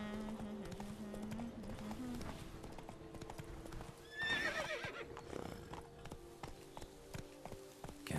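A horse in The Witcher 3 gallops with rhythmic clip-clopping hoofbeats, and a loud neigh breaks out midway over steady in-game ambience.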